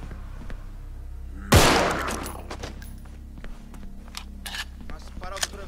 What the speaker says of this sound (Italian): Ma sparo tre volte.